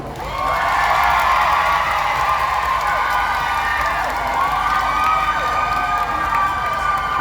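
A large concert crowd cheers and screams loudly and continuously, high-pitched shrieks blending into a sustained roar with some clapping underneath.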